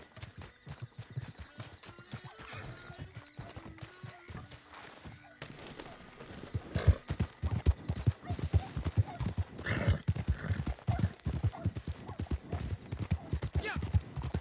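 Horse hooves clip-clop in Red Dead Online as the animal is called over and then runs, steady rhythmic hoofbeats growing louder and denser midway, with a whinny and a voice talking over parts.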